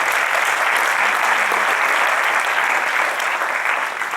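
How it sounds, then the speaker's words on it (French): Loud, sustained applause from an audience at a French tribute evening for terror attack victims: dense, even clapping from many people filling the whole stretch without a break. "Alors, on peut l'applaudir"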